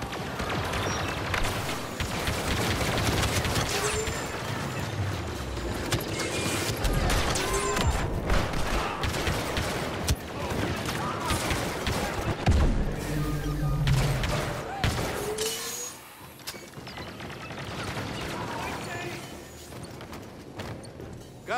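Blaster and gunfire from the Star Wars Battlefront 2 video game in co-op play on PS4 sound as dense, irregular bursts and thuds mixed with game effects, continuing loudly before easing off near the end.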